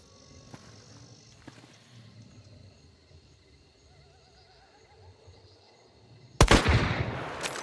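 A single sharp sniper rifle shot from the game Hunt: Showdown cracks loudly near the end, followed by a ringing decay, after several seconds of quiet ambient outdoor hum and faint insect-like chirping.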